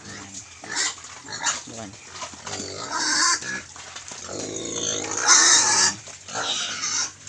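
Native pigs on a rural farm grunt and squeal in bursts after an afternoon feeding, close and lively, with someone speaking intermittently over them.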